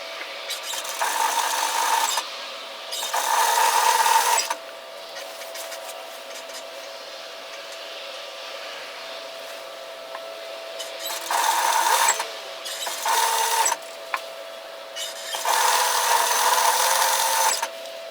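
A sewing machine stitches a bias slip nightgown side seam in several bursts of a couple of seconds each, with steady humming between runs and close, fairly loud whirring.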